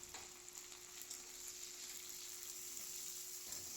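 Chopped carrot and beans sizzling steadily in a pan for a pasta dish, a soft continuous fry with a faint stir near the start, no voices.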